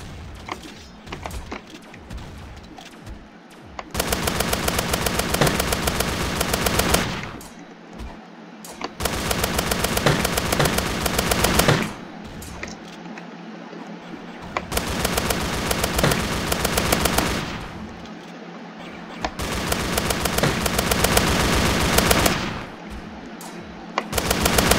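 Rainbow revolvers fire in the Roblox game Zombie Rush as loud, dense bursts of rapid gunfire, each lasting several seconds. Short quieter gaps separate the bursts.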